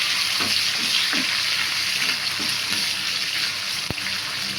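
Black raisins fry in hot ghee for old-style tari kanji, giving a steady, close sizzle throughout with faint stirring and a single sharp click near the end.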